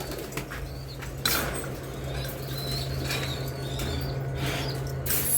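Pigeons shuffling and flapping their wings in a loft, with soft rustling wingbeats and a few sharper flutters over a steady low hum, fairly close and continuous.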